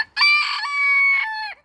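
A rooster crows once close by, a loud, drawn-out call with a rising start and a long sustained tail, heard alone with no talking.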